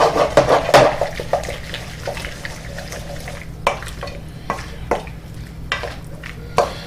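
A spoon stirs warm pasta salad with basil aioli in a bowl, making soft wet squelches and scattered clinks against the bowl, close and irregular with short pauses.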